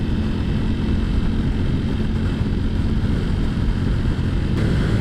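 A Ducati Panigale V4S with its 214-horsepower V4 engine roars steadily while being ridden, a loud, continuous engine drone mixed with heavy wind rush.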